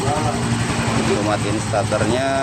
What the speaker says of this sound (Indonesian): Nah, posisi motornya hidup.